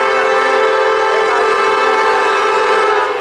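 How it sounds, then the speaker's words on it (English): Train arriving at a station during railfanning, a loud sustained horn or whistle blast that holds steady and close throughout with no voices. "When the train comes,"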